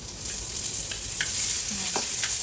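Onion, fish and garlic frying in a hot pan, a steady bright sizzle with occasional stirring scrapes and clinks, close and fairly loud, no one speaking.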